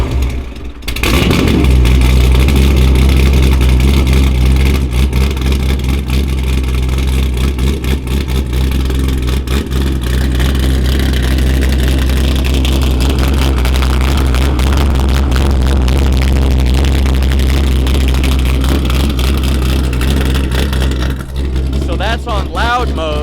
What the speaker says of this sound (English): start this thing up for us so we can hear this exhaust